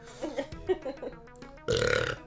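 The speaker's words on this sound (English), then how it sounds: "This is what happens when I don't burp when I'm lining up the audio." A single short, loud burp erupts near the end, following a few scattered mouth and breath noises.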